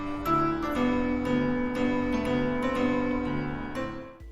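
Toreador melody played on a piano by the animatronic Freddy in a Five Nights at Freddy's fangame, a steady tinkling tune of repeated struck notes over sustained tones, moderately quiet and alone.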